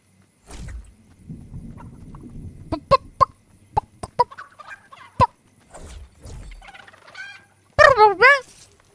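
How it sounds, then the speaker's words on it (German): A chicken in Fortnite clucks in a series of short, sharp calls, ending in a louder squawking burst, close and mostly alone with faint background noise. "Kill das Huhn."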